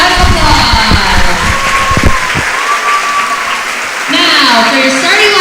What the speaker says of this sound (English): Please stand and show your appreciation by giving them a big round of applause.